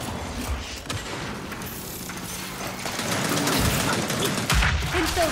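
Rapid, dense gunfire clatters in an online match of the video game Gears 5, sustained and loud with mechanical rattling, growing heavier toward the end.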